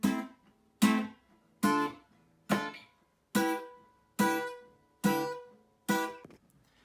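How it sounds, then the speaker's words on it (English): Eight evenly spaced strummed chords in a reggae 1-4-5 progression, each ringing briefly and decaying before the next, played alone in a steady, moderate rhythm. "Something you'll see a lot in reggae is what's called a 1-4-5 progression."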